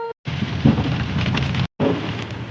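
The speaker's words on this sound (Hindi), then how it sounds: "बहुत ज़्यादा बारिश हो रही है यहाँ तो" Heavy rain roaring in a dense steady wash in Mussoorie, Uttarakhand, broken by two short silent gaps.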